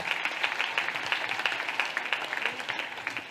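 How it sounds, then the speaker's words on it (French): A church congregation applauding during an evening prayer service, a dense run of many hands clapping continuously at moderate volume with no voices over it. "Acclamons Jésus-Christ."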